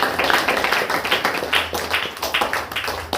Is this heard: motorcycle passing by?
no